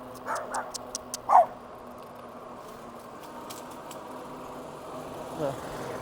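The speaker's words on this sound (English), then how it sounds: "I don't mind little dogs like that barking at me." A few short, high-pitched yaps from a small dog burst out near the start of a trail ride, then fade into quiet outdoor background with a faint engine hum.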